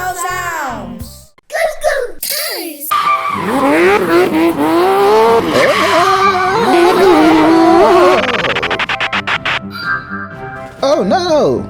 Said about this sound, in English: I was driving really fast. I lost control and I crashed